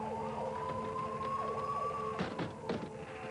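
Ambulance siren wails steadily and loudly with a rising, sweeping tone, joined near the end by a couple of heavy thunks, in a dramatic scene.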